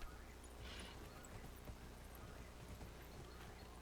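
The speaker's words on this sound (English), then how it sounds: "That's some beautiful galloping there, Mike." A horse ridden by a dwarf gallops uphill in the fantasy video game Dragon Age: Inquisition, its hooves a steady rapid clip-clop through a faint, wide ambient wash.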